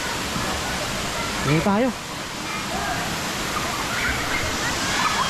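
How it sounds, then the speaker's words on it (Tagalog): A waterfall roars steadily and close by, a dense wash of falling water that never lets up, while a voice briefly speaks over it. "Falls yan."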